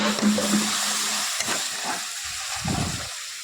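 Ground chili powder, cumin and coriander simmer in a pan with a splash of water, giving a steady close sizzle and hiss with occasional stirring scrapes and bubbling bursts.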